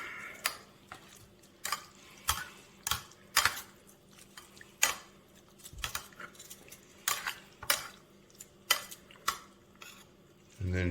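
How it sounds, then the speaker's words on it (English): A spoon stirs barbecue sauce into wood-smoked pulled pork in a bowl, making a string of soft, wet squelches and light scraping clicks at an uneven rhythm, quiet and close, with no talking. "I just dump some barbecue sauce right into the pork. I like to just mix that up a bit"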